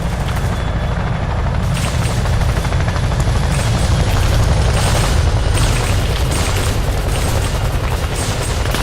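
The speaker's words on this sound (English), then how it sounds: "The Chinook's back for more." A Chinook helicopter in a 1966 Rung Sat war film setting thunders close and loud, its heavy rotor chop pulsing steadily, with booming impacts and gunfire-like bursts mixed in throughout.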